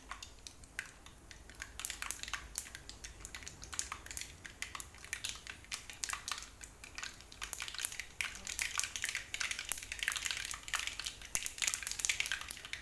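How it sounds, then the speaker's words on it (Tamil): Mustard seeds spluttering and popping in hot oil for a Tamil mango pickle, a dense run of sharp crackles and pops, close and fairly quiet, with no voices. "கடுகு நல்லா பொரியட்டும்."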